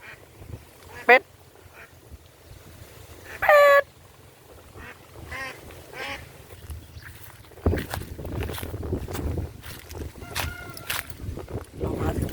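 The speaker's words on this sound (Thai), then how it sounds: "อุ้ยเป็ด" Duck by a farm pond gives two short, sharp quacks a few seconds apart, followed by footsteps, rustling and people talking outdoors.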